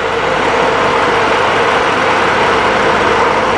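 2018 World Trans shuttle bus engine idling with the compartment open, a steady close-up rumble with a smooth even hum and no change in pace, running alone without talk.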